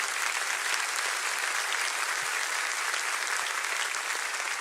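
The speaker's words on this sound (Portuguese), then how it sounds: "Você pode aplaudir ao Senhor?" Steady, dense applause from a church congregation in Curitiba fills the whole stretch at an even level, with no talk over it.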